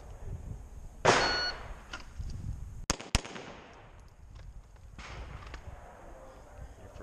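Pistol gunshots during USPSA shooting practice: a loud sharp onset near one second, then two sharp cracks close together around three seconds, with ringing tails, outdoor range ambience and faint later reports.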